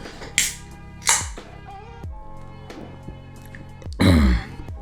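Three separate rough coughs or throat-clearing bursts, close to the microphone, with quiet handling noises between them.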